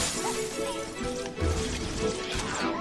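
A glass panel shatters in Halo: Combat Evolved, a crash over dense game noise with music and effects running throughout, one sharper burst near the middle.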